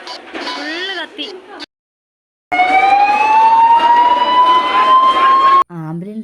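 A loud emergency vehicle siren wails near a house fire, a rising continuous tone that cuts out briefly midway and returns, with people talking around it.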